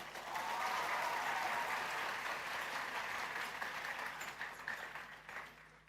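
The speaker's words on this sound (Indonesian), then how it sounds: "Tepuk tangan untuk santri-santri kita." A large audience at an Islamic boarding school event applauds the students, a broad, steady crowd clapping heard from a distance that slowly fades toward the end.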